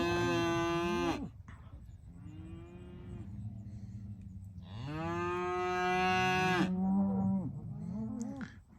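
Cattle on a farm where bulls are raised mooing loudly and close, a long drawn-out low call at the start, a softer one in the middle, then another long bellowing moo, with quiet gaps between.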